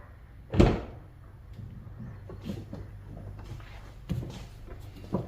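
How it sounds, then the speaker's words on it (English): A single sharp car door clunk on an Audi with a 3.2L engine opens the sequence, followed by quieter rustles, a couple of softer knocks and faint handling sounds in a quiet space. "So pretty much when you open the door, it will prime the system."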